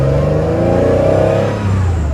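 Porsche 911 SC flat-six engine revving hard up close, a loud sustained rasping roar that climbs in pitch, with no talking.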